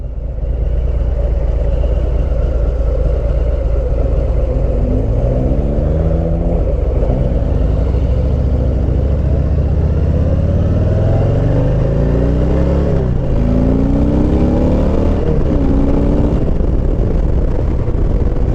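A Harley-Davidson Heritage Classic with the 114ci engine heard while riding, a loud continuous low rumble with several rising-and-falling rev sweeps as it accelerates and shifts, close and alone.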